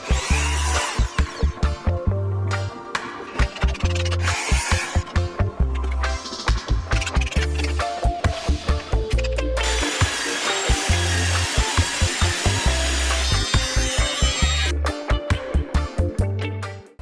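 A power tool machine-cuts rosewood timber along a straight edge in a workshop, for the fit-out of a steel sailing yacht. Loud, rapid bursts of cutting come in a steady rhythm, and a longer continuous cut runs through the middle.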